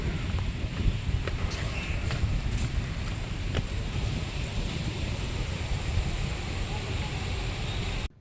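Fountains spray water around a boat-shaped display in Vuda Park, Vizag, making a steady, close hiss of splashing water that runs evenly before cutting off abruptly.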